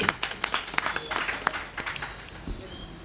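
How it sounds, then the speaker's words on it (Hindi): Audience applause at an evening Urdu poetry gathering, a scattered patter of clapping with a few sharp near claps, moderately loud and thinning out toward the end. "एक जोरदार तालियां उनके लिए भी हों"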